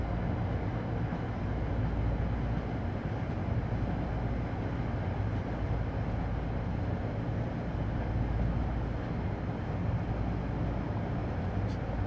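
A locomotive in Train Sim World 3 rumbling steadily on the New York to Trenton line, a low continuous drone and rolling noise at moderate level with no change throughout.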